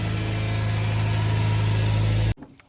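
Mazda MX-5 2.0 litre engine on a weak, drained battery in a cold garage, turning over with a rapid rhythmic cranking chug for about two seconds before cutting off abruptly into near silence.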